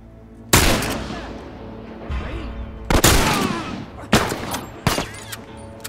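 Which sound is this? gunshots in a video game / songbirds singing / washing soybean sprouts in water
gunshots in a video game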